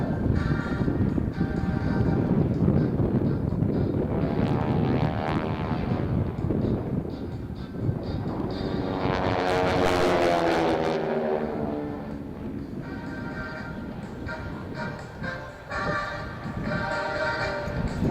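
Propeller aircraft of the Titan Aerobatic Team, 600 horsepower per motor, roaring past at an air show, a loud continuous engine drone that swells as planes pass overhead, with wind buffeting the microphone.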